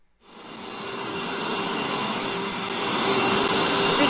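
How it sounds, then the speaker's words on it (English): A vacuum cleaner sound effect played by a smart speaker: a steady, loud motor whine and airflow roar that starts abruptly and holds constant with a faint tonal hum, no talking. "Vacuum."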